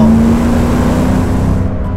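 A Land Rover Defender 90 Works V8 engine roars loudly and close up in a deep, continuous, throaty drone, with no voices present.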